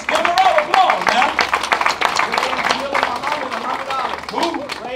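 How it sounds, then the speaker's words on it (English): An audience at a community gathering in Coldwater, Mississippi applauds a donor, steady overlapping hand claps with scattered cheers and voices mixed through the crowd noise. "Give him a round of applause now"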